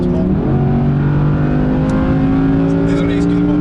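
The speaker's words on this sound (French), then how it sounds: "Le moteur 5 litres 2 atmosphérique." Audi R8 Performance with a naturally aspirated 5.2-litre V10, its engine revving up and holding a loud, rising harmonic howl close by, with a voice speaking over it.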